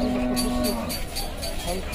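A cow at the Hazratpur cattle market lets out a deep, drawn-out moo up close, set against busy market crowd chatter and background noise.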